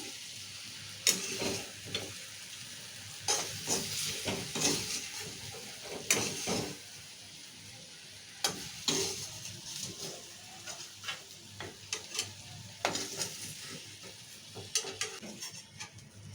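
Potato pieces frying in oil over a low flame crackle and sizzle close by, broken by repeated sharp scrapes and knocks from stirring at irregular intervals, with no voices.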